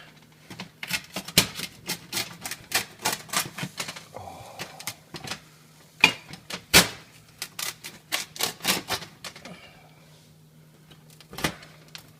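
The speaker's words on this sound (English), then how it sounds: "Oh, can you hear it? That's a cracker crust there." Sharp, crisp crunches and crackles of a Chicago-style cracker-thin pizza crust being eaten, in irregular bursts, close and fairly loud, with short quiet gaps and a brief exclamation.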